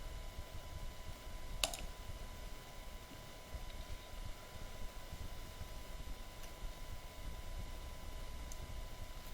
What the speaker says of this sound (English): So click on your document link.